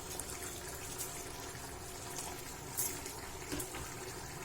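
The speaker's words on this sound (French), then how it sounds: "je vais rajouter directement la moitié de mon lait chaud" Hot milk is poured into a pan while making an apple tart: a faint, steady liquid trickle and splash in a quiet kitchen.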